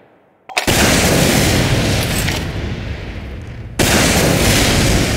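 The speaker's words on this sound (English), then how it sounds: "Rocket explosions." Loud, sustained roaring blasts of rocket explosions in Team Fortress 2, one long burst followed by a second abrupt blast after a brief dip.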